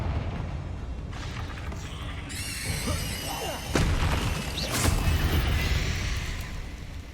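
A Bombarda explosion spell goes off in the Hogwarts Legacy video game as a deep boom with crashing debris, laid over game music and a rumbling low background, with a second heavy impact following.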